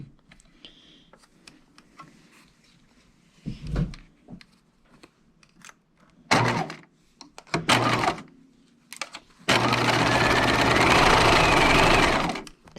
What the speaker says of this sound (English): I'm isolating just the pocket layers and putting them into the machine. And I'm going to be stitching at 5/8 of an inch.